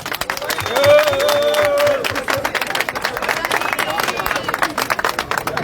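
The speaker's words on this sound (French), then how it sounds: "Je vous demande d'applaudir Nathalie Yamb." Audience at a political rally for democracy in Senegal, held in Switzerland, clapping and cheering in a dense crowd, with voices and babble mixed through the applause and a brief whistle early on.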